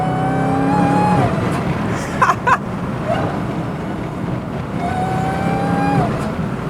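An 807-horsepower Dodge Charger Jailbreak engine revs up and drops as it downshifts, a loud, rising roar heard from inside the cabin with steady road and air noise beneath, and a couple of quick blips between the pulls.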